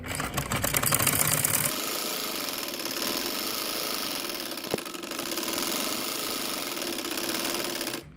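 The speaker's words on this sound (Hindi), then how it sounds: "अब ये देखें, हम इसके यहाँ पर एज पर सिलाई लगाएंगे।" A sewing machine stitches along the edge of a fabric sleeve with a continuous close, loud mechanical whir and rapid needle chatter, briefly faster at the start, running alone without speech.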